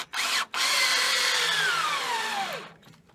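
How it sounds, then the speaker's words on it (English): Power drill driving a screw into wood while assembling corner supports for a mill shed, a short burst then a loud sustained whine that slowly drops in pitch and winds down as the screw seats, close up. "For now, I'm just putting a screw in it"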